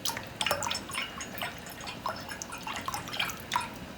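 Liquid is poured into a cooking pot while making Jamaican rice and peas, heard as quiet, scattered splashes and drips falling irregularly, close and fairly soft.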